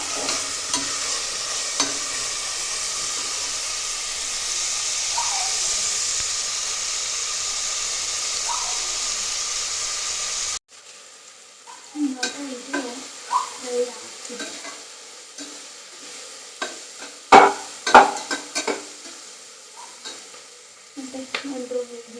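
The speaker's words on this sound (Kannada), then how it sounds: "ಸ್ವಲ್ಪ ಫ್ರೈ ಆಗಲಿ." Food fries in a pan, first as a steady hiss, then, after a cut, as irregular louder scrapes and clatters of stirring over a quieter sizzle.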